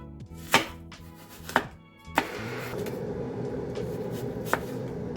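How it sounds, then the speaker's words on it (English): A knife slicing Pink Lady apple quarters into thin slices on a board gives a few sharp, close chopping knocks spaced apart, over a steady low background hum. "slice each quarter into about 9 or 10 thin slices"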